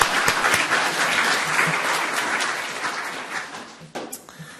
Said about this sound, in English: You're going to be applauding a lot.